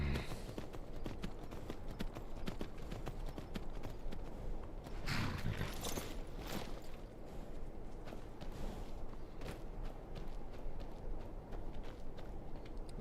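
Horse hooves clop at a steady walking pace in Skyrim, a video game, with a denser flurry of hoofbeats partway through and no talk.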